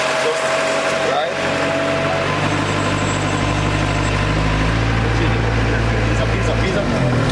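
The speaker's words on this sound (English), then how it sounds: "I'm driving a tractor." A tractor engine runs loud and close while being driven on a road in St. Thomas, Jamaica, a heavy steady drone whose low pitch rises partway through, with people talking over it.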